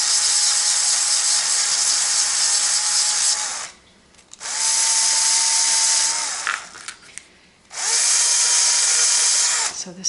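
A power drill fitted for sanding works small log cabin dollhouse furniture, whining steadily in three long runs separated by brief pauses, loud and close with a rough grinding edge.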